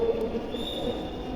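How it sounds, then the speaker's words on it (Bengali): A metro train pulling into a station platform, with a rumbling rail drone and a thin wheel squeal, heard steadily at moderate level for a moment with no talking. "এই সাইডে ট্রেন চলে আসছে"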